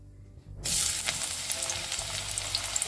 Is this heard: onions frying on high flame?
yes